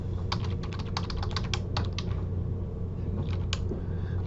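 Fast bursts of clicky typing on a computer keyboard while writing MATLAB code, close and crisp, thinning out toward the end over a low room hum.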